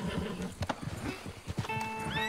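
A horse in Red Dead Redemption 2 gives a loud whinny, followed by a few scattered hoof clops and then a high, drawn-out neigh near the end. Each sound is distinct and close, with no talking over it.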